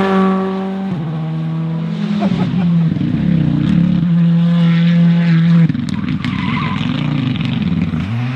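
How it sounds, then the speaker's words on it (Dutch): A helicopter passes over a rally stage at the Omloop van Vlaanderen in 2021, its loud droning rotor tone shifting in pitch and mixing with a car engine, with people talking nearby. "ze zijn er alweer met een helikopter"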